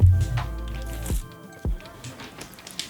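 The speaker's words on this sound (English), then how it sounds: "Her tail's slapped the microphone." A pet's tail slapping against a microphone, making several dull, heavy thumps and muffled rubbing bumps close to the mic, spread irregularly over a background hum.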